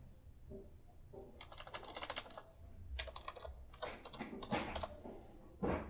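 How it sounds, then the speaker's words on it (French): A computer keyboard rattles with rapid, close keystrokes in several quick bursts as a component search is typed, with no one talking. "je vais taper Varistance ou bien Varistor."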